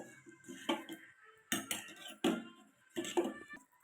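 Fermented kambu (pearl millet) flour is stirred into cooked rice in a pot, giving a few distinct clinks and scrapes of a utensil against the vessel at irregular intervals, fairly quiet and with no speech.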